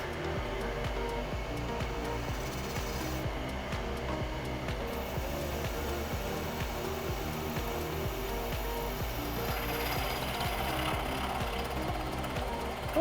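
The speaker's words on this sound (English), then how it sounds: "Let's drill one hole, and we'll see what happens." A drill bores a hole through an Aermacchi motorcycle front hub in a workshop, a steady buzzing, rattling grind that runs continuously for about thirteen seconds at moderate level, with no talk over it.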